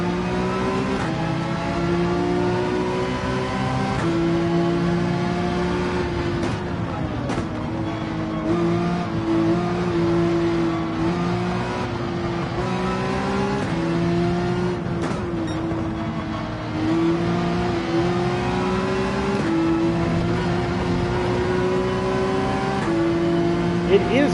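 GT3 race cars roar through a Gran Turismo 7 race at Barcelona, a steady loud engine drone with shifting pitch as a pack of cars runs bunched together, under a voice talking.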